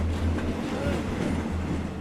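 A freight train with a manned caboose rumbles past nearby with a continuous heavy roar and low rolling clatter of wheels, loud and steady throughout.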